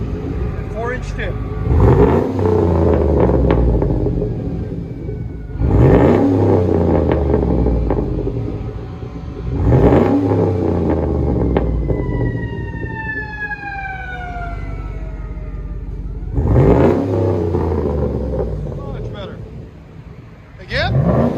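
A 2009 GMC Sierra with a 5.3L V8 and a Vibrant bottle-style resonator, 4-inch tip, revving loudly in repeated surges that rise and fall, with deep rumbling between bursts and a siren-like whine partway through.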